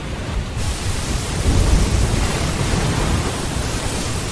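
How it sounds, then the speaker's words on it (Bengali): A storm roars outside during a nor'wester, with dense, steady broadband rushing of wind and heavy rain, loud and close. "বাইরে তখন শুধু ঝড়ের গর্জন আর টিনের চালের বিকট শব্দ।"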